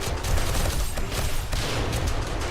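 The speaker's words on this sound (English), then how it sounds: "Gotta love these shotguns." Rapid shotgun blasts from the video game 7 Days To Die during a blood moon horde fight, a dense, continuous barrage of loud booming shots with no clear gaps.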